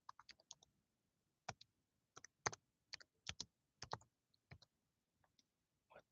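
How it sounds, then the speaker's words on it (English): Quiet computer keyboard typing comes in short, irregular bursts of crisp clicks, with pauses between groups of keystrokes. No voices are heard. "you will basically be typing in"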